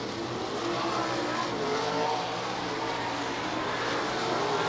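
A continuous loud roar of race car engines at Lernerville Speedway on championship night, a sustained dense drone of cars charging down the backstretch without a clear break.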